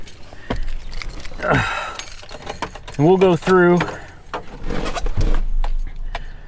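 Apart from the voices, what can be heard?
truck keys jangling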